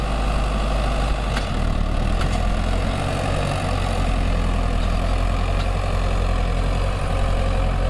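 A steady, loud diesel engine of a Sonalika 60 tractor idling and chugging at a constant pace, with no voices.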